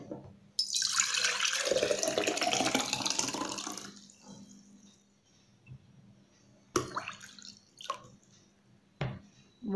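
Water is poured into a glass container that will hold a money plant (pothos) cutting. A steady, fairly loud pour runs for about three seconds, then gives way to a few quieter drips and splashes.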